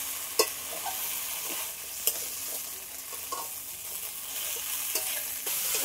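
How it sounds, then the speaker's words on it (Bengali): Fried fish bones stirred in a pan for a spicy Bengali bhetki curry, with a soft ongoing sizzle and a few sharp scraping clinks of the spoon against the pan. "ভেজে রাখা মাছের কাঁটা সব একসাথে আর একটু ভালো করে এইভাবে নাড়িয়ে নেবো"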